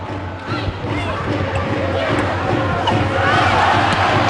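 A volleyball arena crowd cheers a point for Novara against Bergamo, a dense roar of voices that swells and stays loud throughout, with commentary running over it.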